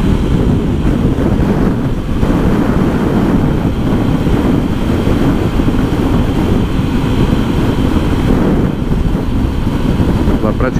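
Strong crosswind roars steadily across the microphone while riding a Honda Bros 160 motorcycle through the Cerrado near São Lourenço de Fátima, a loud continuous buffeting rush with the engine buried underneath.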